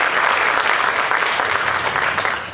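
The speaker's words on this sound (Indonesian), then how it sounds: "tepuk tangan untuk semuanya" A dense, steady wash of audience applause at an Indonesian inspirational gathering, many hands clapping together at once and filling the whole stretch before easing slightly at the end.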